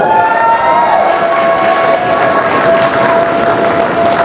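A crowd at a motivational seminar claps and cheers loudly in a continuous, roaring burst, with a sustained tone running through the noise.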